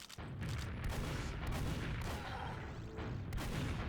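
Rockets explode in a Team Fortress 2 MGE duel, a dense, continuous roar of blasts and booms, loud and close throughout with no talk.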